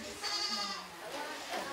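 Goat bleating in a show ring at the Croswell agricultural fair, a wavering bleat up close over a crowd murmur, with people talking nearby.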